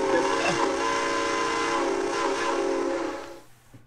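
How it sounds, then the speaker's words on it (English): Railway noise with a sustained train whistle tone over rumbling rail cars, loud and continuous for about three seconds before fading. "I'm here for the train noises."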